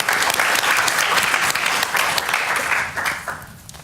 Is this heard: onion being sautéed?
no